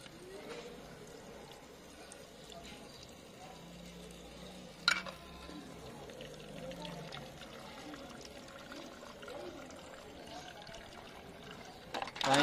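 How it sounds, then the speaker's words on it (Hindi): Water poured by hand into a transparent plastic Holi water gun (pichkari), a soft continuous trickle and splash running steadily with a brief clunk midway and handling noise at the end. "इसमें भरते हैं पानी"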